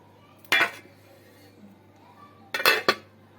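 A metal lid being set onto a curry pot, with two close clattering bursts, one short and one a longer double clank a couple of seconds later, over near silence.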